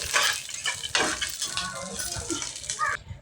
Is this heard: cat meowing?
no